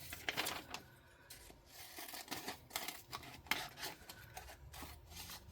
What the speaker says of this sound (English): Let's get our scissors out,